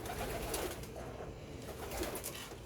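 Stock pigeons cooing softly in a fanciers' loft, a steady low murmur of overlapping coos with no talk.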